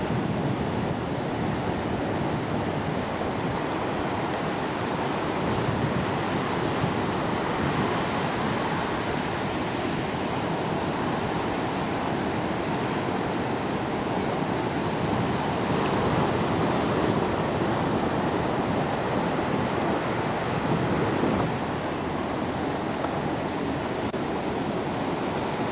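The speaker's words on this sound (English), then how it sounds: "Huge, huge waves." High surf along a Hawaiian shore roars steadily as huge ocean waves break, a dense continuous wash with wind noise buffeting the microphone and no pauses.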